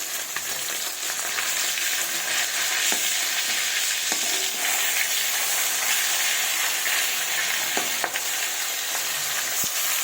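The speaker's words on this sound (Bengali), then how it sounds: "এবার কিছুক্ষণ ভেজে নেব লাল লাল করে" Pieces of large American rui fish fry in oil, a loud, continuous close-up sizzle with occasional light pops and utensil taps, no speech.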